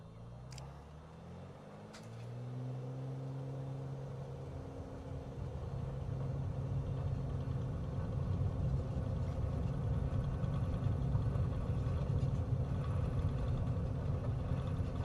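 A small airplane's engine roars steadily and rises as it takes off, a low droning rumble that grows louder and stays close and continuous through the climb.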